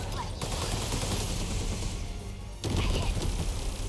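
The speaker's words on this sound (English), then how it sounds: "Rocket launchers," Rocket launcher fire in the game 13 Sentinels: Aegis Rim: a sustained roar of blasts and crashing impacts, with a louder surge near the end.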